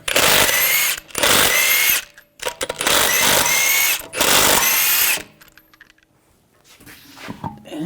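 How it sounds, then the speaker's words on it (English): An impact power tool with a 22mm socket spins the lug nuts off the wheel of a 2013-2015 Chevrolet Malibu, giving four loud, close rattling bursts of about a second each, followed by quieter handling noise. "Take the lug nuts off."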